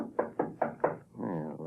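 Four firm knocks on a back door in an old radio drama, evenly spaced and close, followed by a voice speaking.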